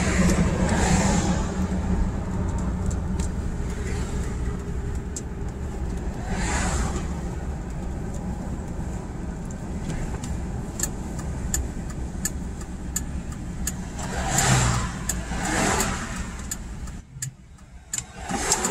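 A Mercury Marauder car driving on a road on its way to winter storage, a steady mid-pitched engine and road rumble running throughout at close range, with a few brief swells of passing traffic.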